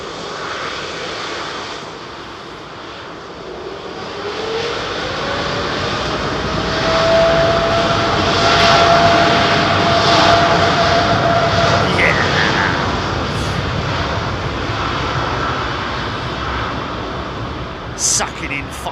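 Jet aircraft engines roar at London Heathrow, a loud broadband rumble that swells toward the middle with a rising tonal whine, while a voice talks over it.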